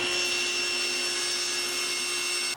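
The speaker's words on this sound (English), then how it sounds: "The first being cutting a groove, starting with the table saw." A table saw runs steadily while cutting a groove into wood in a beginner's shop, a loud continuous whine with sustained tones that holds for the whole stretch and drops off right at the end.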